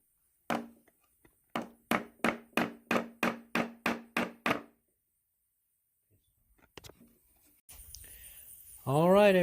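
Ten evenly spaced sharp marking or tapping strokes on the underside of a homemade compost funnel, close and distinct, followed by a quiet pause and then a louder rising mechanical noise at the end.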